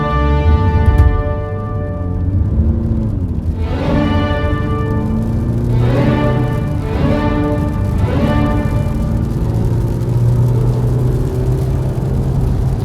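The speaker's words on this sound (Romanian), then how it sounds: "hai să vă arăt un 0-100 în cât timp face" A small-engine car accelerates hard from 0 to 100 km/h, its engine note climbing through several gears in rising sweeps, each shift briefly dropping the pitch before it winds up again under a constant road rumble.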